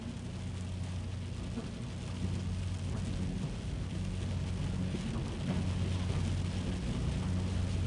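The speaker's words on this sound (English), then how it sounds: "There's a fucking thunderstorm here, come on now!" A thunderstorm with steady rain and low rumbling thunder, heard from a vehicle on the road, as a continuous, fairly faint wash of noise with no voices.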